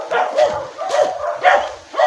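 Several dogs bark near a grotto along a wooded path, sharp close barks coming in uneven bursts about every half second, some higher and yelping, with a few whimpers mixed in.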